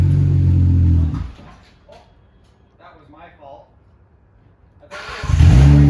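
A 2008 Hyundai Tiburon engine revs loudly and close, drops away while someone speaks briefly, then roars back up to high RPM.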